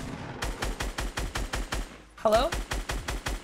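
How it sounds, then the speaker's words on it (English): Rapid automatic gunfire in the video game Fortnite, a steady rhythmic burst of shots that breaks briefly and resumes, with a voice speaking over it. "I'm getting shot from the bouncer hill."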